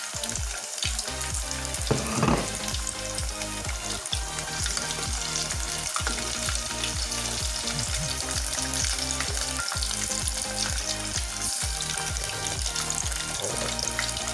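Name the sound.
chicken frying in hot oil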